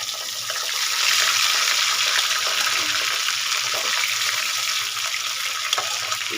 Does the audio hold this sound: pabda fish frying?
yes